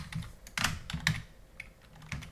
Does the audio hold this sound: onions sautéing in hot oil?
no